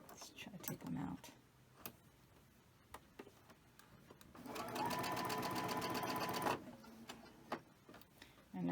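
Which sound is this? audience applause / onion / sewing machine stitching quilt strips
sewing machine stitching quilt strips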